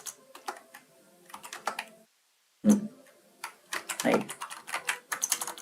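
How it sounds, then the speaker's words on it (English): Fingers type on a new computer keyboard in quick, uneven bursts of close clicks, pausing briefly before resuming, while a voice is heard in the background. "I cannot type on this new keyboard."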